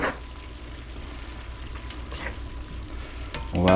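Cabbage frying in an uncovered pan, a steady soft sizzle running throughout at moderate level, with a brief louder clatter at the very end.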